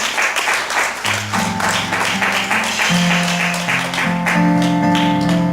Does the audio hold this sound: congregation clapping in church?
yes